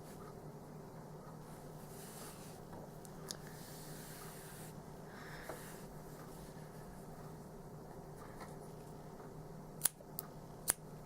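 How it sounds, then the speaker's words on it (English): Scissors snipping through fabric pieces for a Baymax toque, faint and quiet against a steady background hush, with a few sharp clicks of the blades near the end. "My scissors are getting dull there."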